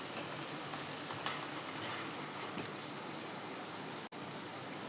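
Sliced onions fry in a pan, cooked until pink rather than brown, giving a steady, dense sizzle that holds evenly throughout, with one brief dropout near the end and no voices.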